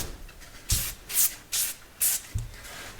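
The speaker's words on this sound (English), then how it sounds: "I'll spray the backside, get the backside nice and clean, and then we'll flip it around and spray the front" Degreaser sprays onto the back of a 1966 Ford F250 gauge cluster in four short, sharp hissing bursts at roughly even intervals, close up, each ending with a soft clunk or shuffle between bursts.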